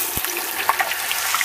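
Homemade potato chips fry as potato slices drop into hot oil, a steady dense hiss and sizzle with small pops and bubbling bursts throughout, close and fairly loud.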